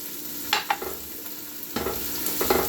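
Garlic and onion fry in a pot as a base for butternut squash soup, giving a steady low sizzle with a few short stirring scrapes and a louder burst of frying midway, no talk.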